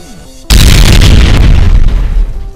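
A dull, bass-heavy explosion sound effect bursts in suddenly and loudly, then rumbles on as a sustained low roar before easing slightly at the end, with no talking.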